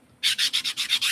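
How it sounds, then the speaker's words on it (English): Rhythmic rubbing strokes of a sanding sponge, about seven even back-and-forth passes, close and clear with no talking. "I really like using sanding sponges."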